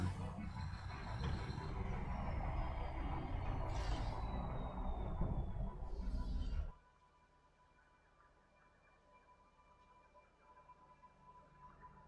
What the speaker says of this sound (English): So our truck is coming into the station now